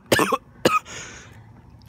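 Two sharp coughs close together, loud and near, followed by a softer breathy exhale fading out.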